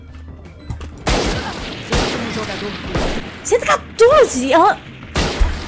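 Gunfire in the video game Valorant comes as sharp, loud separate bursts spaced about a second apart, mixed with a player's excited shouting.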